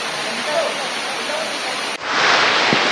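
Rayikal waterfall in Telangana, swollen by light rains, sends up a dense rushing roar of falling water that shifts abruptly and grows fuller and louder after about two seconds, with no voices.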